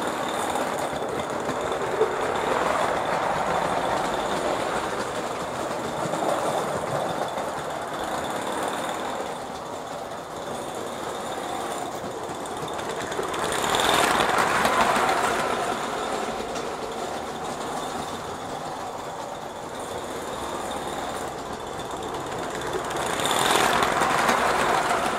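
An Aster gauge 1 Titfield Thunderbolt model steam locomotive pulling Meccano wagons, a continuous rolling rattle and clatter of wheels on track, swelling louder at intervals as the train passes nearer, with no talk.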